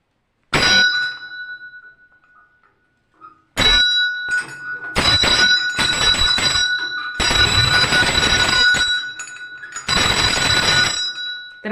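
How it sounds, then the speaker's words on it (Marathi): A metal temple bell struck repeatedly inside a temple, each ring sustaining a clear bright tone that echoes and overlaps the next, loud and close. "आता बघा घंटी वाजवतो आणि आवाज घुमतो मंदिरात"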